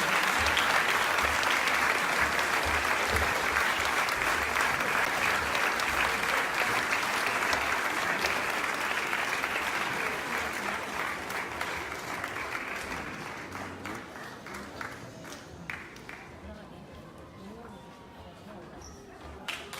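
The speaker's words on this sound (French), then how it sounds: "Alors, Continue à applaudir." An audience at a school event applauds loudly and steadily, then the clapping gradually thins and fades toward the end.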